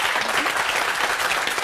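Studio audience on a French television talk show breaking into applause, a dense steady wash of clapping that fills the whole moment without pause.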